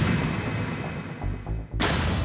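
Armour-piercing incendiary rifle bullet fired with a sharp, loud report heard over a dense, rumbling background, followed by a bright crack near the end.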